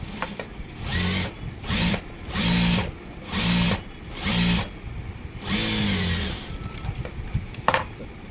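A sewing machine stitches the folded waist seam of a blouse, running in about six short, loud whirring bursts separated by brief pauses, close up, with a small click near the end.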